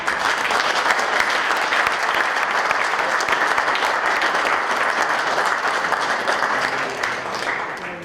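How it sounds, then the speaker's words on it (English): A crowd at a legislative candidate forum gives sustained applause, loud and even for several seconds before tapering off slightly at the end, with no one talking over it. "Several rounds of applause."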